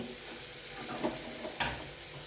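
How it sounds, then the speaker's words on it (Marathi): Shredded cabbage sautéing in a pan, with soft steady sizzling and a couple of light scraping stirs, quiet and close with no talking. "मस्तपैकी असा कोबो आता छानपैकी परतल्या जात आहे"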